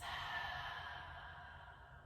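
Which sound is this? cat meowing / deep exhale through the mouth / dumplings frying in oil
deep exhale through the mouth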